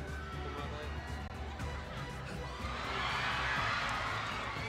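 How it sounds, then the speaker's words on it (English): Crowd cheering and shouting: a dense wash of voices that swells noticeably louder in the second half and carries on steadily to the end. "The crowd loves it."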